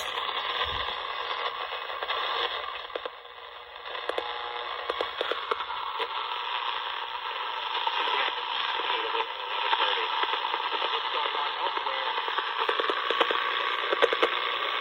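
A 1960s OMGS vintage radio on a workbench hisses with steady broadband interference noise, picking up crackles and buzzing from nearby camera gear and bench equipment, fairly loud and continuous with no talking.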